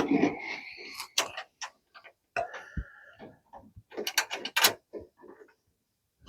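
Metal nuts being threaded onto bolts while a coolant expansion tank is mounted on an old Ford F100 truck, giving scattered close clicks, light ratcheting taps and small rattles with quiet gaps between them.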